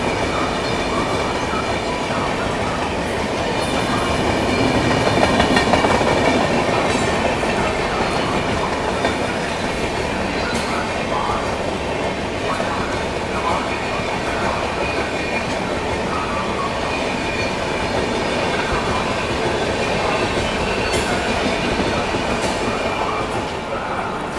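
A steady rail roar heard aboard the 22222 Rajdhani Express as the New Delhi–Hyderabad Telangana Express passes, loud and continuous with a swell near the start and faint clattering throughout.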